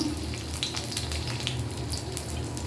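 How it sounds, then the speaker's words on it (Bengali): Chopped garlic frying in hot mustard oil in a kadai for a tempering, a steady soft sizzle with faint crackles heard up close and no speech. "পেঁয়াজ রসুনটা আমি একটু লাল লাল করে ভেজে নিব"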